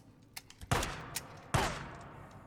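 Gunfire in the video game Days Gone: two heavy booming shots about a second apart with lingering decay, preceded by faint lighter pops.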